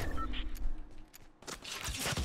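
Gunfire in the video game Fortnite Battle Royale comes as a couple of short rattling bursts, faint and somewhat distant, over a low rumble.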